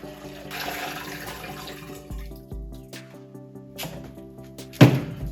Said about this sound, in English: We are adding 24 ounces of water.